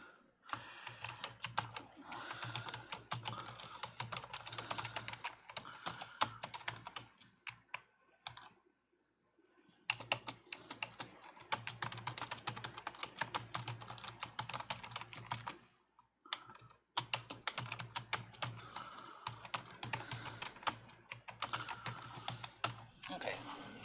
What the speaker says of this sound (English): I'm just typing something in Discord.